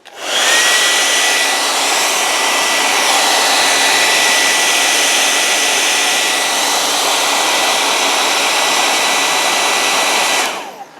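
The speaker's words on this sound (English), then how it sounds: "we're going to use a blow dryer and going to really warm up, not get hot, but warm up the area" A blow dryer runs steadily close by, warming the freehub area of a bicycle wheel with a loud, even whooshing hiss and faint whine that starts abruptly and stops after about ten seconds.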